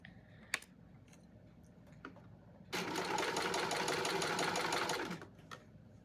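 A sewing machine stitches a hem on stretch fabric, running in one steady rapid burst of about two and a half seconds, with a few quiet handling clicks before and after.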